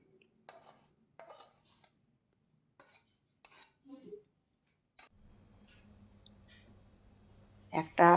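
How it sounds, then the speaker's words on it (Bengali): Garlic and bean curry is served onto a plate with scattered light clinks and scrapes of a spoon. A low hum then sets in, and a louder clatter of dishes ends it. "এবার আমি একটা প্লেটের মধ্যে সার্ভ করে নিলাম।"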